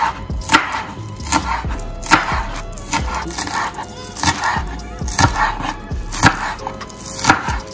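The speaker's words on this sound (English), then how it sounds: "cutting up some scallion" A knife chops scallion on a cutting board while preparing Jamaican-style salt mackerel rundown: close, crisp chops in a steady rhythm, about one every second or so, over a low background hum.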